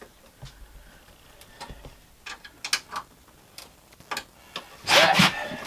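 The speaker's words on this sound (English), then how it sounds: "just tightening these down so they're nice and tight against the metal frame rail" Fasteners are tightened against the metal frame rail of a bus dashboard, giving scattered sharp clicks and ratcheting ticks at close range, ending in a louder burst of scraping and rattling.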